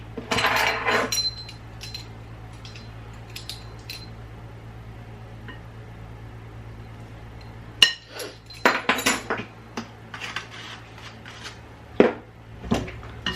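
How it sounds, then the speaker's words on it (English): Spoon stirring a teaspoon of vanilla extract into cake batter in a bowl, with scattered clinks and scrapes against the bowl, a louder burst at the start and clustered clatters later over a steady low hum. "We're going to stir in our vanilla. That's 1 teaspoon of vanilla extract."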